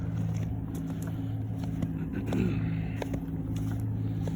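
Motorboat engines passing on the water on a busy day for boat traffic: a steady, droning low-pitched hum that swells slightly midway, with small scraping and crackling sounds from nearby.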